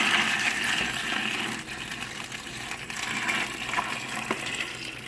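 Water gushes steadily into a large plastic bag holding ice for brining a turkey, a continuous close pouring rush with no talk.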